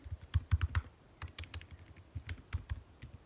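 Fingers tap quickly on a computer keyboard while someone writes code, producing close, crisp clicks in uneven bursts separated by brief pauses.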